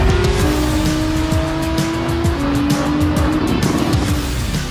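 Racing cars in Gran Turismo 7 roar continuously at high revs while tires squeal and skid through corners, loud and close throughout with no voices.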